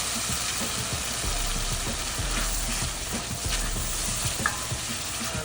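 Cajun butter sauce with lemon sizzles and bubbles in a pot while it is stirred. A constant frying hiss runs throughout with soft, regular scraping strokes.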